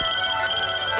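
A phone ringtone trills steadily for about a second, a bright repeating electronic ring with a brief break midway, loud and close with no talk over it.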